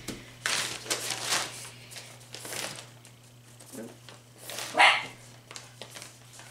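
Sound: dog barking

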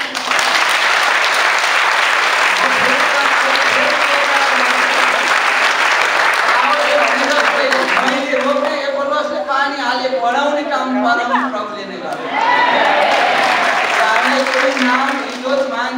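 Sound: audience applause

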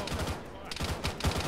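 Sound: gunfire in a military video game

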